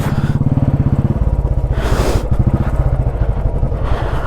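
A motorcycle engine on a mountain road at Shinkula Pass, loud and close with a steady pulsing beat that shifts pitch as the gear is changed, with a brief rushing burst in the middle and no talking.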